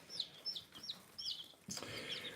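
Young chickens, a mix of Leghorns and Rhode Island Reds, give quiet, high chirping clucks in a quick series of short calls, faint and close together, ending in a slightly louder scuffle.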